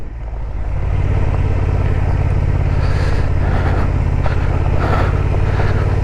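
Steady, loud engine drone of a Honda XL750 Transalp motorcycle ridden in second gear on gravel, a low rumble with wind and road noise that rises in the first second and then holds constant throughout.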